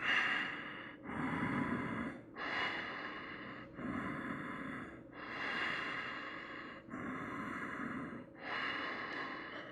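Slow, deep yoga breaths during a flow sequence, each long inhale or exhale lasting about a second and a half, steady and close with brief pauses between, no talking.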